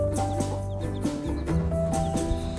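Hens squabble in a farmyard, with several overlapping clucks and short cackling calls sounding close and lively throughout, with no voices.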